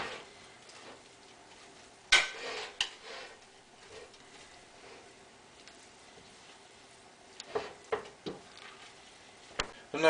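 Quiet stirring of a hunters stew of chicken, roast beef, cabbage and sauerkraut in a pot, with soft scraping and occasional clanks of the utensil against the pot, irregular and fairly close.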